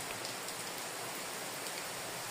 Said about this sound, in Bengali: বৃষ্টি নেমেছে মুষলধারে।